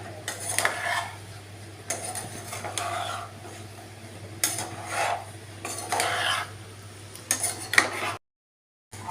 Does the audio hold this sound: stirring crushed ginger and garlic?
yes